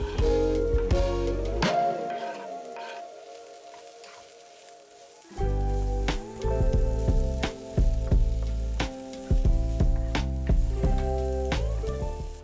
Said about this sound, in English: you're going to add in all of your veggies and saute those for a few minutes